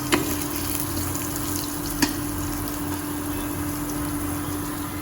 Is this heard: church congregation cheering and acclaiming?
no